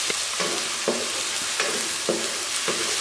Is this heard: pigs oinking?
no